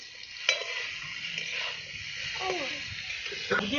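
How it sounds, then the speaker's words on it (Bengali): Mango pieces frying in a pan for a summer mango chutney give a steady, hissing sizzle with a few scraping stirs and faint tonal chirps drifting through. "আমগুলো একটু ভালো করে ভেজে নিতে হবে।"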